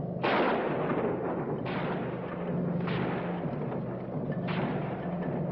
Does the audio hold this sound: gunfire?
yes